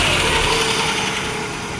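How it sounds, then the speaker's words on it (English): A Nissan Hardbody SE V6 4x4 pickup idles steadily and loudly, with a light metallic rattle from the exhaust shields and motor mounts running through the low rumble. "You can hear like a little bit of a rattle from the exhaust shields and the motor mounts"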